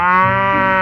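A cow lets out a single loud, drawn-out moo that holds steady for under a second, close and clear with no talking over it.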